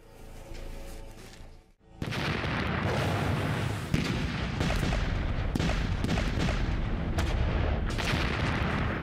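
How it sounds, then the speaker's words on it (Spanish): World War One artillery bombardment along the Saint-Quentin canal, a dense continuous roar of heavy guns and explosions with sharp booms breaking through, loud and sustained after a brief quieter opening. "La potente artillería de Monash pulveriza las defensas alemanas a lo largo del canal Saint-Quentin"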